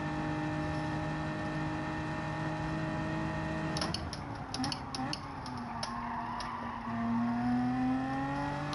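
A turbocharged race car engine in Gran Turismo 7 drones at a steady pitch, then shifts up into third gear and pulls harder, its tone climbing under faint background voices.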